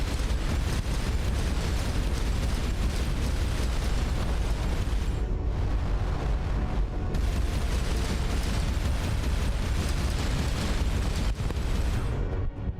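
Space station weapons firing in the video game Starcom: sustained loud, dense rumbling booms and explosions filling the whole stretch, with brief dips before the barrage resumes, and no talk.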